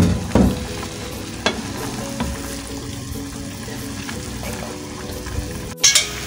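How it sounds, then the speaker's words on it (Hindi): Chicken and chopped onions for a restaurant-style chicken handi sizzle in a pot as they are mixed, with a continuous frying hiss, a few sharp spoon scrapes and clacks, and a louder clatter near the end, close up with no voices. "और मैं इसे मिक्स कर लूँगी ताकि चिकन के साथ हमारी प्याज भी पक जाए।"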